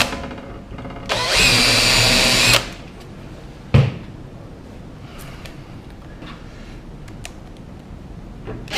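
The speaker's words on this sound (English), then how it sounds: "the final move is to fit the 2 extra screws as a safeguard for the adhesive" A power drill drives a screw into a Franke tap brace in one loud, steady whir of about a second and a half, followed by a sharp knock and quiet handling sounds.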